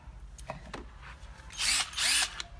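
A Makita 12V cordless drill spins up in two short, loud bursts close by, separated by quiet handling clicks, with no talking.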